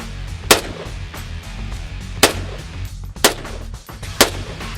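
Four sharp rifle shots from a Mark 14 EBR fitted with a SureFire FH762K flash hider, evenly spaced over a few seconds, loud cracks over steady low background rumble.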